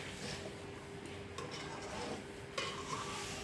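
A spoon works through a village-style oily brinjal tamarind kuzhambu in a pot, stirring and scraping softly at low volume over a gentle simmering hiss, with a few light clinks.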